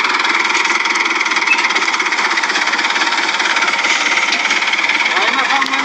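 A motor engine runs steadily during a village bean harvest, a constant loud mechanical drone with a rattling, knocking texture throughout, with no break in the sound.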